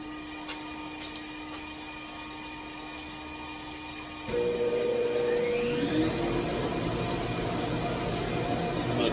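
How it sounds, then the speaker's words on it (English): A dust collector in a CNC workshop switches on partway through, its broad steady roar rising over a quieter machine hum and continuing to the end. "I'm going to go turn on the dust collector."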